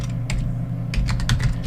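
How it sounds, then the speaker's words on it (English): Fingers tap a computer keyboard in a quick burst of light, close clicks lasting under two seconds. "We're just typing Android"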